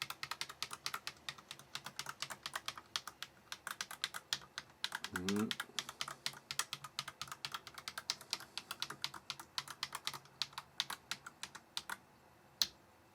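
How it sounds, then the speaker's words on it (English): A new computer keyboard clicking and clacking in a fast, continuous typing rhythm of crisp close keystrokes, with a brief low voice partway through and one louder click near the end. "Do all the buttons make nice clicking noises?"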